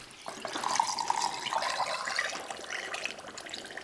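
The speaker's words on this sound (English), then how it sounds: "I'm going to pour it." A 60% alcohol and 40% water mixture is poured over yerba mansa plant material, a steady close splashing pour lasting several seconds without talk.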